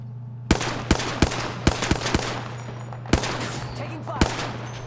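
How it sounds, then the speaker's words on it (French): Gunfire in the battle-royale shooter Apex Legends: a string of sharp, separate shots, first spaced a beat apart and then more widely, loud and close over a steady low hum, with faint speech in the background. "Opening fire."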